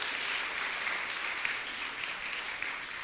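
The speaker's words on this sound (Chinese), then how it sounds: "来拍手拍手" A church congregation clapping at an anniversary thanksgiving service, a continuous close wash of many hands beating steadily.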